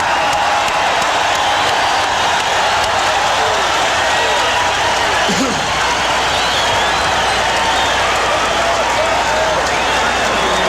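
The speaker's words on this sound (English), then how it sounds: "A thunderous ovation from this crowd, and justifiably so" Thunderous ovation from a boxing arena crowd at the Julio Cesar Chavez vs Ruben Castillo fight, a loud, dense, continuous roar of applause and cheering, with a voice talking over it.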